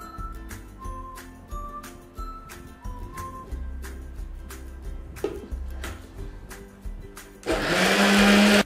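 Blender whipping oil into pepper mayonnaise, starting with scattered clinks and short motor bursts, then a loud continuous high-speed whirring roar in the final second.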